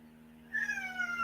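A cat gives a single clear meow, a rising then falling cry about half a second in, close and fairly loud over a quiet indoor hum.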